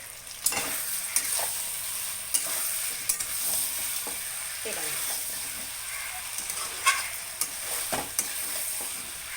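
A spoon stirs salted chicken in a hot pan for a village-style chicken dish, scraping in steady strokes over a continuous sizzle with a few sharper knocks against the pan.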